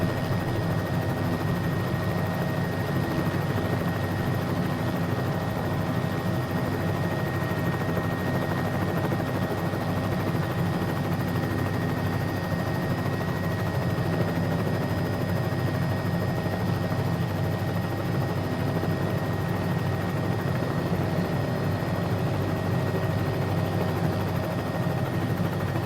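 A Bell 407 helicopter flies over Key West, Florida, its steady rotor and turbine drone holding constant and fairly loud with no pauses, alone without voices.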